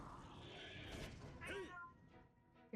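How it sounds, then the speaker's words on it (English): A cat meows once, short and rising, near the microphone amid background noise and some talking. "If you hear meowing, it's my cat."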